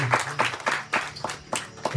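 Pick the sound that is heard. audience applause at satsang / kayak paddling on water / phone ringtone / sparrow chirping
audience applause at satsang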